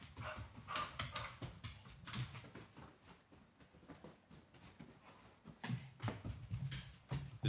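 A dog scampers and runs in circles around a room during a craps game session, with a steady patter of paws and light scuffling, moderately close, with no talking.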